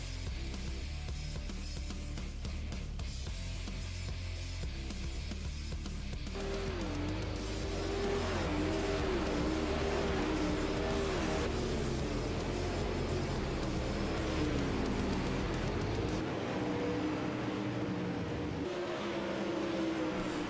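Super late model dirt race cars in a sim racing game at USA Speedway: a continuous, loud engine roar with rising and falling revs as the cars circle, a dense pack sound without any talking.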